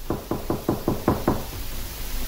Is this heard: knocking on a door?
yes